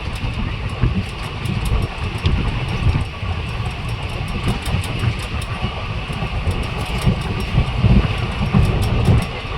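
Indian Railways passenger train from Junagadh to Lathi rolls along near Lathi station, heard from inside as a continuous loud rumble with rhythmic clickety-clack of wheels over rail joints and wind noise.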